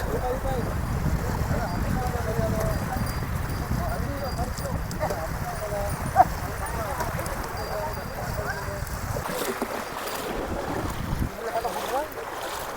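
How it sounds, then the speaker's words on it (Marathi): Bullock hooves clop on the ground at the busy Harnai fish market harbour in Dapoli as the cart is loaded straight from fishing boats. The clopping stays steady amid a crowded bustle of voices and wind. "तर बैल बैलगाडीच्या आतमध्ये जाते पूर्ण आता ते होडीतून सर्व जो माल असेल तो आता बैलगाडीमध्ये टाकणार"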